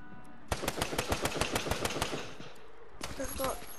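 Rapid automatic gunfire in Fortnite, a loud burst of evenly spaced shots for about a second and a half, then a pause and a second shorter volley, with faint background sounds.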